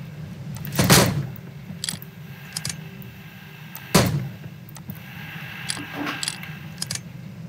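Two loud, booming shots from a Lindsay gun in a Wild West video game, several seconds apart, with small metallic clicks and mechanism rattles between them and no voices.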